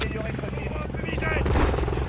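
An upgraded drone in a video game hums and whirs with a rotor-like drone over game sounds, while an excited voice talks loudly over it.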